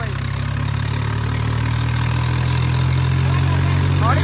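A Swaraj 855 tractor idles close by at a village procession, a loud, steady diesel throb that runs unbroken throughout.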